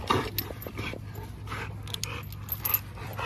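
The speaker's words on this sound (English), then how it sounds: "he's a dog, you're moving around too much" A muscular dog pants steadily close by, with faint whimpers and small jingling sounds over a constant low background hum.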